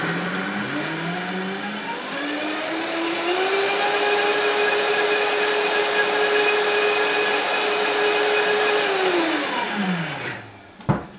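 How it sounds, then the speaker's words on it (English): A Vitamix 5200 blender whirs through cashews and water, its motor climbing in pitch, holding a loud steady whine for several seconds, then winding down before a final clunk. "And I'm gonna blend it till it's nice and creamy."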